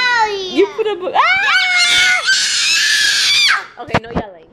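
A young child yells and shrieks, loud and close, with high warbling cries that rise into a sustained scream before breaking off into a few short sharp sounds.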